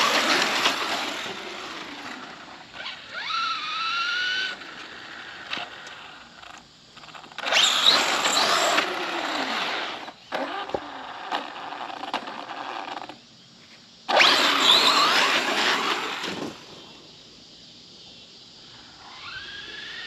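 An RC monster truck's electric motor whines and surges in repeated throttle bursts, rising and falling over several seconds with short quiet gaps between runs, fairly close.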